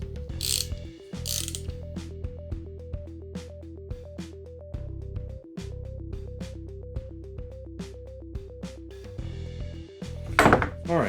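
A ratchet wrench tightening bolts on a cutter tool under restoration, rapid even clicking in several long runs with brief pauses between strokes and a clatter near the end, close, no talk.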